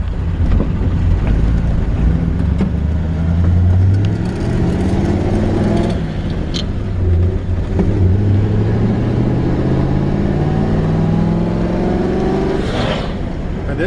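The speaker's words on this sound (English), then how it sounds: "This thing just drives with surprising amount of power for its age. I think there's a good chance that it's got a little bit newer flathead V8." A 1938 Ford truck with a flathead V8 drives along, its engine drone rising and falling steadily throughout under heavy wind buffeting on the microphone.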